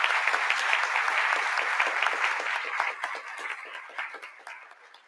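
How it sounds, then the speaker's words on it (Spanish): An audience at a political forum bursts into applause, brisk, crowded clapping that holds steady for a few seconds and then thins out near the end. "un fuerte aplauso para la diputada Susana de la Rosa."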